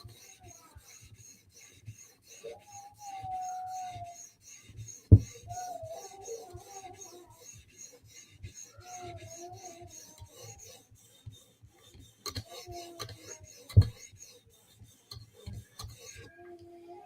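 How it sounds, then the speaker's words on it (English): A knife blade being polished on a 2000 grit sharpening stone, removing the burr left by a 400 grit stone, makes a steady, close, soft rasping rub in repeated strokes, with a couple of sharp taps and a faint background hum. "we're sharpening by taking off the burr that was left from the 400 grit stone and just polishing our bevel"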